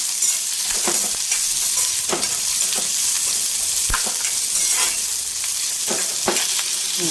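Finely chopped onion sautéing in a pan, a constant close sizzle with repeated scrapes and taps of a spatula stirring it around.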